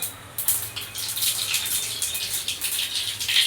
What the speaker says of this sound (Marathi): आता मी ह्याच्यामध्ये सगळ्यात पहिले मोहरी घालून घेणार